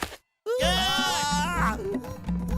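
A cartoon voice imitates a sheep's bleat to lure a tiger, giving one long, wavering, nasal baa after a brief pause, loud and close, with faint background music underneath.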